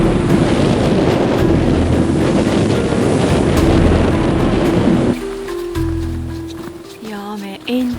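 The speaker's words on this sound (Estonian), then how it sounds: "see tuul viib kohe ära" Strong wind roars loudly into the microphone on a winter night hike through a forest in a storm, a steady buffeting gust that drops off sharply partway through, leaving quieter rustling and faint sounds.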